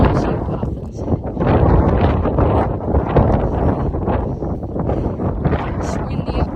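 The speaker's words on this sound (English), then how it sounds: "It's windy up here, pretty chilly." Strong wind blows across the exposed top of Binsey Fell in the Lake District, Cumbria, with loud, continuous gusty buffeting and rumble against the microphone.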